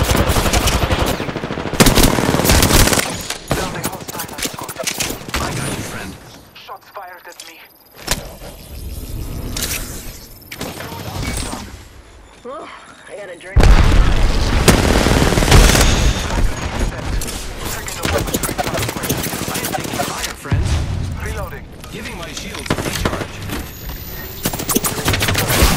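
Rapid automatic gunfire and explosive bursts from a video game firefight, loud and dense, with a quieter lull in the middle before the shooting resumes heavily.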